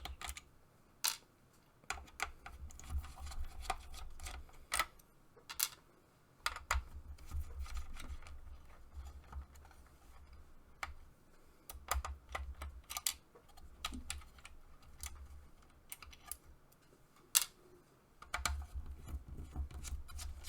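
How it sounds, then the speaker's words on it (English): Small screws are worked out of a Nintendo 64 console, heard as close, dry ticking clicks in bursts alongside faint handling rattles, with low motor-like rumbles between them and no talk. "we're going to take out these 4 silver screws first"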